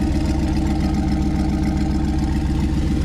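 A Land Cruiser bogger's engine runs steadily throughout, a loud, continuous low rumble with a regular pulsing idle beat and no voices over it.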